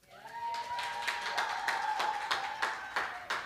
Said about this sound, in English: As she goes up, clap her.